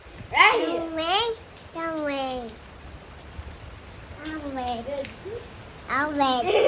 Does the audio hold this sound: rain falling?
yes